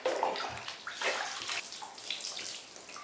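Water splashes and runs steadily nearby as a guinea pig is rinsed during its bath, a continuous close trickling and pouring with no talking.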